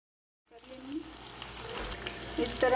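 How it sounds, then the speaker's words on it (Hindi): Besan-coated Anaheim chilies frying in hot oil, a steady crackling sizzle that starts abruptly after a moment of silence and grows slightly louder, with faint clinks near the end. "इस तरह सारी मिर्चें फ्राई कर लेंगे"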